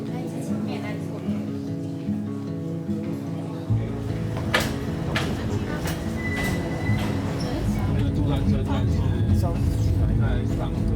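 Rumbling train noise with rail clatter and mechanical hum at the Alishan Forest Railway sunrise train in Taiwan, voices chattering over it, growing busier and louder in the second half.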